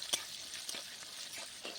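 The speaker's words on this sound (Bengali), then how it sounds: "একটু ভালোভাবে ভেজে নেব।" Potatoes fry with turmeric in a pan over lowered heat, giving a soft, steady sizzle with a few brief stirring scrapes and clicks along the way, heard alone without voices.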